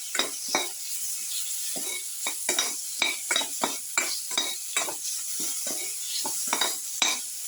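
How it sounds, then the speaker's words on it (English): A garlic and tomato mixture sizzles in a pan while a utensil stirs and scrapes it in regular strokes, a steady frying hiss under rhythmic knocks, close and clear. "Keep on sauteing."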